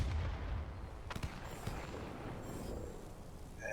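Aircraft cannons fire in World of Warplanes from a Lockheed XP-58 Chain Lightning, a heavy booming burst at the start followed by a couple of sharp cracks and a rumbling tail.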